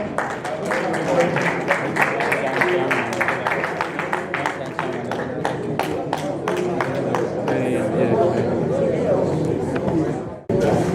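A crowd claps at the Lokoja/Koton-Karfe People's Forum town hall meeting, sustained applause with dense individual hand claps rising over a murmur of chatter, loud and continuous for about ten seconds before cutting off.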